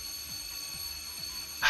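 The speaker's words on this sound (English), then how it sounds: "This alarm going off." A steady, high-pitched electronic alarm tone in the visual novel 9-nine- rings continuously in a school setting, with soft repeating low pulses beneath it and a sudden louder burst at the very end.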